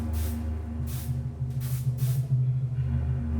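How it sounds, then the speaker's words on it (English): Chlorine disinfectant sprayed in repeated bursts, loud steady hissing pulses over a constant low mechanical hum, about four sprays in quick succession. "They sprayed Grandfather's room and his body with chlorine to destroy the Ebola"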